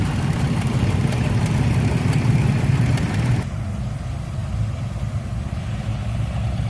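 Several farm tractors of mixed makes, John Deere, Cockshutt, Co-op, Farmall and Oliver, idle together in a tractor pulling lineup. A steady, loud low rumble carries on throughout, easing somewhat past the midpoint, with no talk.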